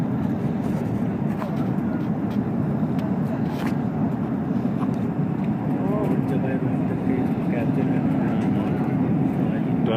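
An airliner landing at Najaf airport after a flight from Mashhad gives a steady, loud low cabin roar of engine and airflow that holds even throughout, with faint clicks and murmurs mixed in.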